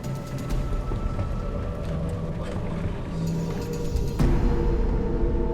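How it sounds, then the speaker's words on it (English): Hurricane-force North Atlantic storm battering a massive mega-ship at sea: a steady, dense roar of wind and rain over a deep rumble that swells slightly toward the end. "The storm pummels Faust for 5 more hours."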